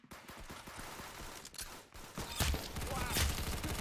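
Video game gunfire as a paratrooper is taken down with a headshot: dense, rapid bursts of shots rattle throughout, growing louder and heavier toward the end.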